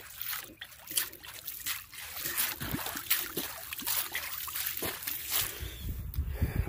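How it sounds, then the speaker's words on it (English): Water sloshing and trickling as a jar is rinsed outdoors beside a farm pond, faint irregular splashes and dribbles with soft handling knocks throughout. "Gonna rinse out the jar again."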